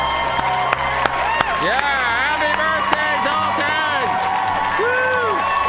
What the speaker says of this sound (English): Let's give him a big, rousing round of applause